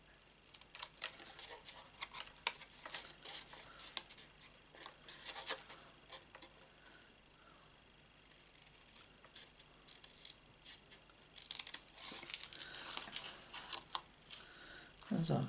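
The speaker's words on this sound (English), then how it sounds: "with this, we will cut it into strips" Paper card being cut into strips for a Stampin' Up Floral Essence card, soft scattered snips and rustles near the microphone, faint and intermittent, with a brief burst of handling at the end.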